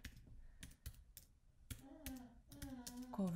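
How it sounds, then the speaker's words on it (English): Keys clatter on a computer keyboard in short irregular bursts of clicks, while a voice with clear harmonic bands talks over the latter half. "We have to type"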